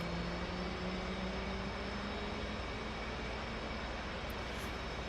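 An aircraft engine in the DCS video game roars at a steady pitch during an overweight takeoff without flaps, a broad, even drone with no pauses.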